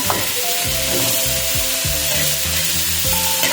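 Pechay leafy greens sizzle and fry steadily in a hot pan for a Filipino ginisang pechay with oyster sauce, with repeated scraping stir strokes cutting through the constant loud hiss.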